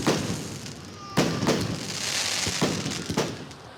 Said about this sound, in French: Pendant que les vacanciers admirent le spectacle